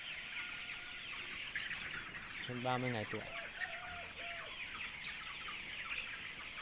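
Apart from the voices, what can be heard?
free-range chickens in a coop, about 30 days old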